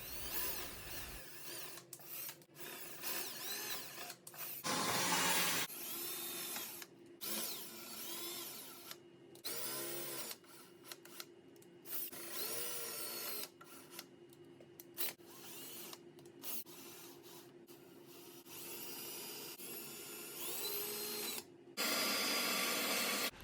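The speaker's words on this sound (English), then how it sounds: "Drill the holes for the remaining legs." A power drill boring holes in wood for the legs of a DIY window plant stand, intermittent whirring bursts of varying length separated by short pauses, close and moderately loud, no talking.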